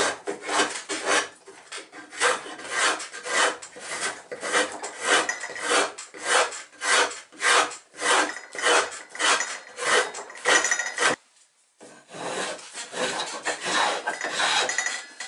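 Rasp strokes on wood while shaping the angled sides of a small wooden toy Polynesian canoe, a steady rhythm of close rough scrapes with a brief pause near the end before the filing resumes.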